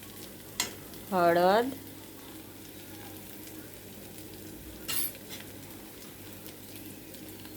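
Garlic-cumin paste sizzles softly in a pan, with a brief spoon scrape and a couple of clinks against the pan under a short spoken word.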